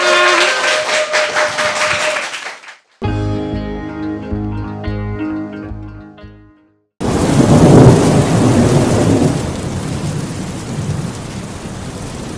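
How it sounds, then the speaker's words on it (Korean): A thunderstorm with heavy rain fills the final stretch with a loud, dense roar of rainfall and rumble, following a burst of music that begins partway through and a noisy opening stretch. "폭풍 한가운데로 빨려 들어가는 것 같아요."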